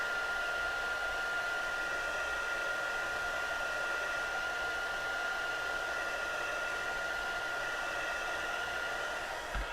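A heat tool blows a steady, even stream of air over pearlized specialty cardstock to dry it, a constant close whoosh that holds for the whole stretch with no talking.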